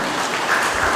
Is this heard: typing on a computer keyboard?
no